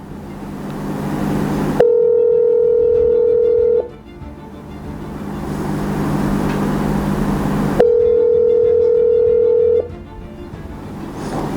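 Telephone placing an outgoing call: two long, steady ringback tones about six seconds apart, each lasting roughly two seconds, heard over a constant background rumble like a car interior, with no voices.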